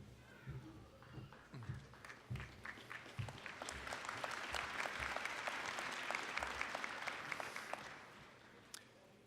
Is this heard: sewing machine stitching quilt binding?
no